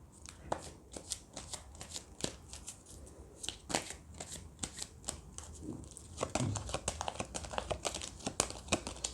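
A deck of tea leaf reading cards is shuffled and handled up close, with quick papery riffles, slaps and crisp clicks repeating throughout, with only brief speech in the background.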